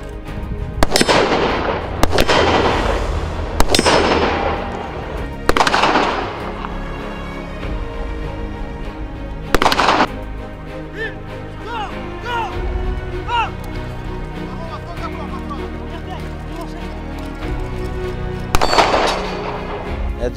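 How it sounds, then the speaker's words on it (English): Gunfire at a special forces shooting competition stage at KASOTC in Amman, Jordan, with loud sharp shots in irregular bursts across outdoor ambience. "they have to shoot different target systems using different techniques than the previous stage"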